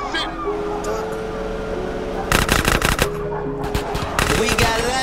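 Drive-by gunfire in GTA San Andreas sounds as rapid bursts of automatic shots in two clusters over a steady car engine drone. Game characters talk throughout.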